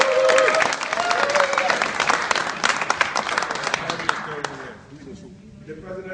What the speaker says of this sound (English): let's give him a real Cameroon applause